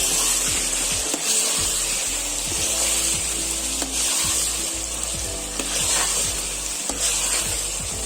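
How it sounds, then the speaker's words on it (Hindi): Garlic and spices with green chillies frying in a karahi for chicken karahi, a steady close sizzle punctuated by repeated scraping stirs of the spoon against the pan. "लहसुन को अच्छा सा भूनेंगे।"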